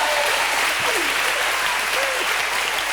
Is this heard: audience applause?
yes